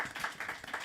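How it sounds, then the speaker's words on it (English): Brief burst of audience clapping at a live-streamed Davos women's leadership event, dense and steady for under a second, with faint voices mixed in. "Let's give her a big round of applause."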